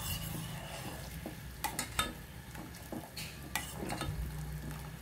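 Leftover amla syrup boiling in a pan, a soft steady bubbling hiss with several sharp clinks and taps of a spoon against the metal.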